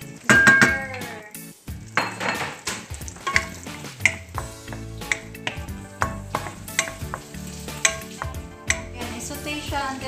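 Ginger sautéing in olive oil in a pan for buttered shrimp, with a sizzle beneath busy, rhythmic metallic clinks and scrapes of a utensil against the pan.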